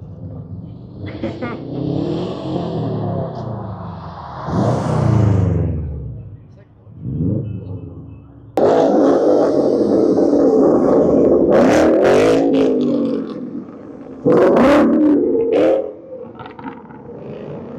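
Car with a stock exhaust revving hard at a Cars and Coffee meet in Lexington, Kentucky, several loud bursts rising and falling close by, with people talking and crowd noise between the revs.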